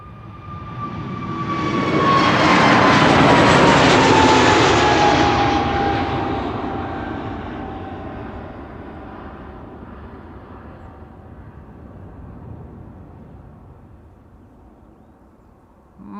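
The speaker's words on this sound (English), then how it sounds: "Right now, a KLM A321 Neo departure going to London Heathrow" A KLM Airbus A321neo jet departs Amsterdam Schiphol for London Heathrow, its engine roar swelling loudly as it climbs past, then slowly fading into a distant rumble with a falling whine.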